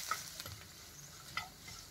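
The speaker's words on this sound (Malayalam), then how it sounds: "ഇഞ്ചി അരിഞ്ഞത്, വെളുത്തുള്ളി എന്നിവ ചേർക്കുക. ഇത്രയും സാധനങ്ങൾ ഒന്ന് വാടി വരുന്നതുവരെ ഒന്ന് ഇളക്കി കൊടുക്കുക." Chopped ginger and garlic with green chillies frying in a pan for a taro-leaf pickle, a soft steady sizzle with a couple of light stirring clicks.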